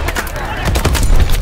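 Dense automatic gunfire in the Call of Duty: Advanced Warfare mission Fission: rapid, loud bursts layered with battlefield noise and background voices.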